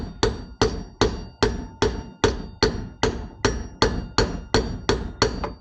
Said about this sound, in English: I'm moving this socket around so I'm not beating on the bearings, I'm beating on the race on the outside